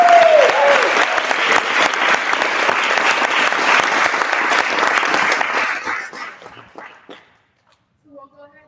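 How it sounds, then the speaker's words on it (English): An audience at an annual speech home show gives a loud, sustained round of applause. The dense clapping carries on for several seconds, then thins out and fades into near silence, with a few faint sounds at the very end. "can we get one last round of applause?"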